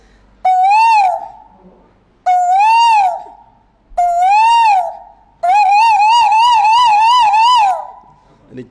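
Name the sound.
forest guard imitating a koel call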